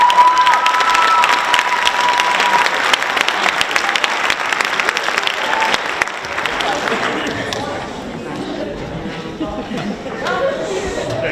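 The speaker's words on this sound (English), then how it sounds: "Round of applause for Miss Jenny Chung." Audience at a middle school band concert breaking into loud, dense applause with cheers and crowd chatter mixed in, tapering off into softer scattered clapping and murmuring near the end.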